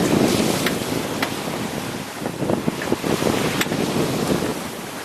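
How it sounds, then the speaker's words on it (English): Wind roars into the microphone while waves slosh and break around a sailboat at sea in a 10 to 20 knot breeze, a loud, continuous rush with brief splashes. "Winds have been great, from anywhere from 10 to 20 knots, usually down on the lower end of that range."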